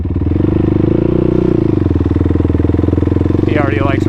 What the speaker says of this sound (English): He's on a little Suzuki 50.